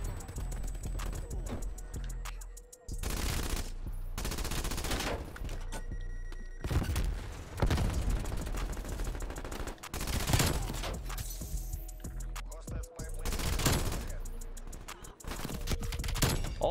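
Rapid bursts of PPSh-41 submachine gun fire in a video game, loud and close, coming in several long sustained volleys separated by brief gaps.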